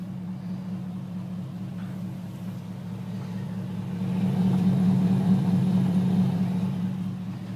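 A 2004 Hummer H2 with a Gibson exhaust tip idles on bad gas, a low steady rumble that swells somewhat louder midway and then settles, with no talking.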